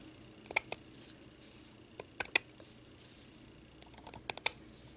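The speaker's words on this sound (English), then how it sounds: "I'm going to cut this right down the middle, and it does cut very nicely" Scissors cut down the middle of a ribbon close by, with quiet, crisp snips that come in small clusters against a soft background hiss.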